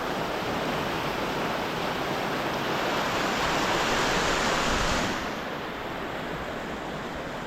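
A river swollen by monsoon rain in a Konkan village near Sangameshwar and Devrukh rushes past in a loud, continuous broadband roar that eases slightly toward the end, with no voices.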